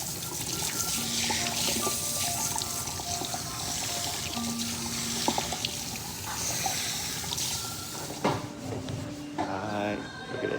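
Water runs steadily into a hair salon sink during a shampoo, a close hiss with splashing and dripping, and speech drifts over it in places.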